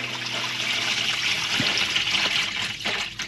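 Water drains steadily from an old John Deere bulldozer, a constant splashing trickle close by with a few small knocks over the flow.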